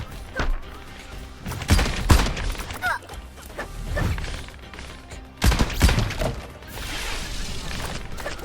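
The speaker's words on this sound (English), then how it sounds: "let's load fire, which changes the gun to a shotgun" A shotgun blasting in the video game Brew, with a few sharp, widely spaced shots and crashing impacts, close and loud, and a voice talking in between.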